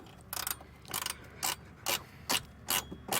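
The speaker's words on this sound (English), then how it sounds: "So we just undo these mounting brackets, 10mm bolts" A ratchet backs out 10mm bolts holding a mounting bracket in a 4WD engine bay, making six quick, even bursts of clicking close by, each about half a second apart, with no voices.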